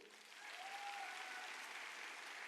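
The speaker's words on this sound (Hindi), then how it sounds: "जोरदार तालियां इन लोगों के लिए होनी चाहिए।" A network marketing training audience breaks into enthusiastic applause for members who hit their targets, a steady wash of clapping swelling in after a brief quieter moment and holding fairly constant.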